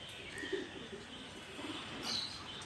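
Pigeons in a flying loft give soft, faint cooing and chirps over low ambient noise, with no talk in this short moment.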